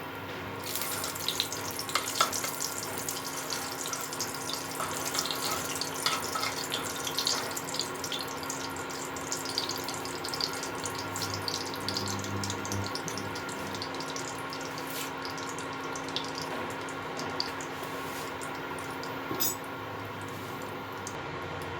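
Oil and ghee heating in a pan for dum aloo, giving a continuous hiss and fine crackle with scattered tiny pops, steady and moderately quiet with no voices.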